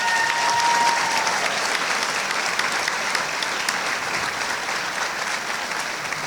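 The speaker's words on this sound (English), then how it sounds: "I think they deserve a round of applause" Loud, sustained applause from a crowd at a chamber of commerce business awards meeting, dense clapping filling the whole stretch without letup.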